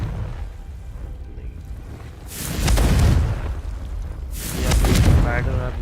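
Two heavy booming blasts of the Confringo explosive spell in the Hogwarts Legacy video game, each a loud burst with a crackling, rumbling tail, spaced a couple of seconds apart over a low background.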